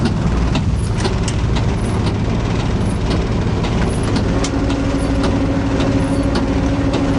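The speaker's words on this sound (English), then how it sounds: "Now I'll put the windscreen wipers on. Now I'll put the heaters on." A bus with its windscreen wipers and heaters running, giving a steady, loud engine and blower rumble with faint rhythmic wiper sweeps layered over it.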